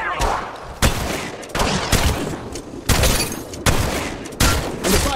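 Gunfire in the mobile video game Apex Legends Mobile: a steady run of sharp, loud shots about a second apart over a dense, noisy battle backdrop.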